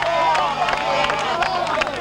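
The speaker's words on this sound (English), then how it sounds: "The crowd appeal for an encore." Crowd at a motorcycle race cheering and calling out for an encore, a dense roar of many voices with rhythmic clapping peaks, close and loud throughout.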